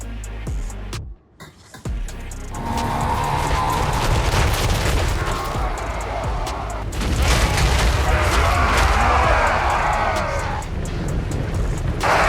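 Mechanical dwarf hound units in the Warhammer 3 video game fire their back-mounted cannons, producing loud, heavy booms that roll into a sustained, rumbling barrage of battle noise.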